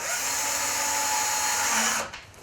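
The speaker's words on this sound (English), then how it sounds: "you can reduce the setting, the torque setting on your cordless, and you can fire it in" Cordless drill with reduced torque setting driving a screw into soft pallet wood, a steady loud whine held for two seconds before it stops abruptly.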